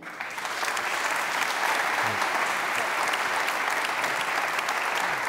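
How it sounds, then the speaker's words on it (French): Audience applause at an awards ceremony for civic-engagement prizes, a dense steady roar of clapping hands that holds at an even level throughout, with no speech over it. "on peut les applaudir"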